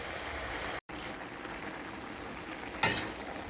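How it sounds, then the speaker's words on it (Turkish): Green beans fry slowly in a covered pot over low heat after long cooking, a faint even sizzling hiss close by, broken by a brief dropout and a short louder burst of crackle near the end. "Bakın bayağıdan beri kavruluyor."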